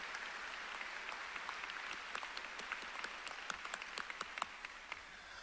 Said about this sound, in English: Can we please give them a round of applause this morning as well?